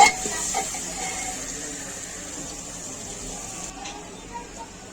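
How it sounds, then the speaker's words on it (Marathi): Soft scraping and light sizzling as turmeric is stirred into paneer rice in a hot pan, a sharp clatter at the start then quieter continuous frying and stirring. "हळद टाकत आहे। सर्व मिक्स करून घ्यायचं आहे।"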